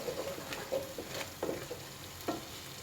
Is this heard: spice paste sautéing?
yes